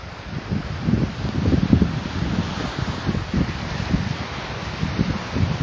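Wind and breaking surf at Sakhra beach in Mostaganem, Algeria, a steady broadband rush with rolling low swells and gusty microphone buffeting throughout, no voices.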